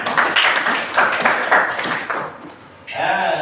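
Brief clapping in a classroom for a father who led the prayer, a few pulsing bursts of hand claps that fade out, followed by a short stretch of voices.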